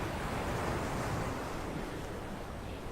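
Ocean waves in the Roblox pirate game Turbulent Seas, a continuous loud roar of surf and rushing water with wind-like noise and no voices.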